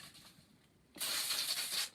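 Brake cleaner sprays from an aerosol can onto a nozzle in a sudden, close hissing burst lasting about a second after a quiet pause.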